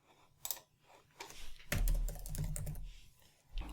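Typing on a computer keyboard, in quick irregular bursts of close, crisp key clicks with short pauses between them, then a denser run of keystrokes, with no voices.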